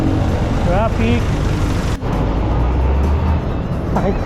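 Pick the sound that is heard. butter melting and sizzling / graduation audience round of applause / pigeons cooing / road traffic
road traffic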